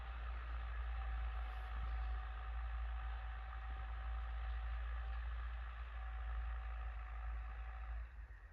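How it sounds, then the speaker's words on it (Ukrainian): An MTZ-80 tractor ploughing a field with a homemade PLN 3-35 plough, its engine running as a steady, loud drone with a constant low rumble and a sustained tonal hum, continuous and alone throughout. "двома тракторами орати веселіше і площа швидше подається."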